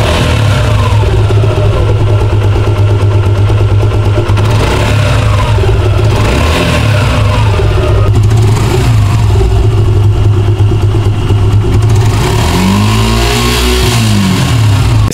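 Suzuki Gixxer Monotone motorcycle with a cracked silencer, its engine running steadily and close up for the whole stretch, with a loud low drone and a shift in pitch near the end, as if revved.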